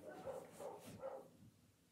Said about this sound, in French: Tu peux essayer de faire taire les chiens, Mathéo, s'il te plaît